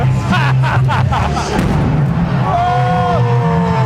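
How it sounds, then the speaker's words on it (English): Pyrotechnics burst in quick succession at the Pendleton Round-Up rodeo: several loud booms and cracks come early, then a busy crowd and arena din carries on with tonal sounds. "Fireworks burst, and I swear I can feel the heat."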